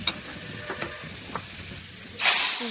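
Onion tempering (bagar) is poured into a pot of cooking beans and breaks into a sudden loud sizzle and hiss near the end, after a few faint clicks and clatters. No one speaks.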